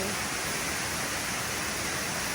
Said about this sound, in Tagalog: Consosep Waterfalls